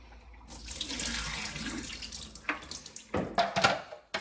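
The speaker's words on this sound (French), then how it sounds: "il y a plein d'eau ici à vider" Water is poured out of a container from a De'Longhi Magnifica Start coffee machine into a sink, a splashing tap-like flow with a few sharper spills and drips near the end, close and alone.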